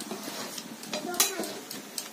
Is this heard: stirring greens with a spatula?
yes